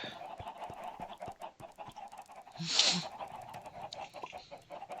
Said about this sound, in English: A lot of chickens, by the way.